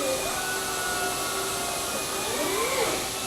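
A robot arm tends a lathe in a machine shop, giving a steady mechanical whir with faint shifting servo tones over constant loud shop hum, no voices.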